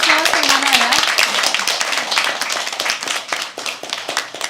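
Audience at a live poetry open mic claps, a dense burst of applause that gradually thins out, with a voice speaking over the start.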